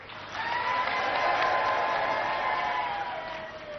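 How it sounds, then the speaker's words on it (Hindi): An audience at a world peace Akhand Brahmayagya religious gathering in Chhattisgarh claps in steady, sustained applause for several seconds. The clapping swells in after a brief pause, holds evenly, then tapers slightly. "ताली बजाई करी अभिनंदन करो"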